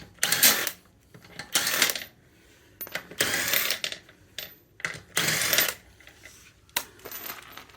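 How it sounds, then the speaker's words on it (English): Short bursts from an impact wrench with a 17 mm socket zip off the wheel bolts of a BMW, several loud rattling blasts separated by pauses, close by, with no talk. "I use my impact to zip these off."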